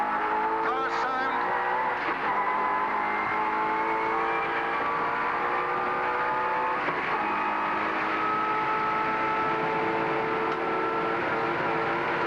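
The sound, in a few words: racing cars engines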